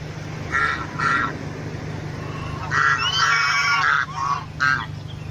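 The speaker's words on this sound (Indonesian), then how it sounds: "Ini angsa sama anaknya nih" A goose with its goslings honks in repeated bursts, loud and close, over a steady low hum, with quieter gaps between the calls.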